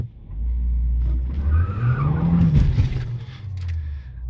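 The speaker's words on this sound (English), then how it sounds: "the squeaking noise from the tires" Tires of a Mercedes A200 squeal loudly during a standing launch, a rising engine rev underneath as the wheels scrabble for grip, close and continuous for a few seconds.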